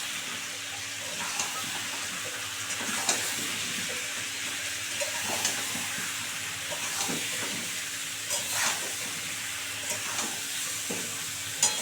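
Potatoes fry in a pan with salt and turmeric, a continuous soft sizzle broken by repeated scraping clicks of stirring, steady and close.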